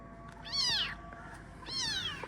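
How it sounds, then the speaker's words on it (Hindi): A small rescued kitten meows twice, each a short rising-then-falling cry, fairly close and clear over a quiet background hum. "यहाँ पे बिल्ली जो हमारे घर आ गई है"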